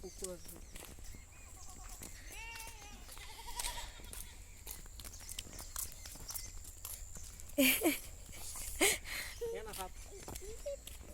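Goats bleating in short, wavering calls near an old village temple surrounded by jungle and a pond, heard at moderate distance while someone talks over them outdoors.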